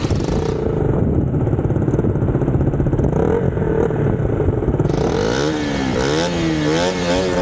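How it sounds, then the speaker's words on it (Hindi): A motorcycle with a wiring fault, on a road trip from Jammu to Leh in Ladakh, is started and revved up close, its engine running steadily with a rising rev toward the end. "हाँ अब स्टार्ट कर बाइक"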